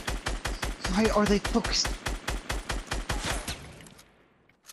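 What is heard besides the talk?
gunfire in video game Fortnite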